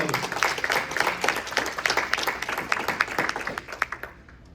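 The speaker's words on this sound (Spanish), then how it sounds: "Denle esas palmas al Señor." A church congregation claps rhythmically in praise, many hands beating a quick, fairly even pulse at moderate distance that fades out near the end.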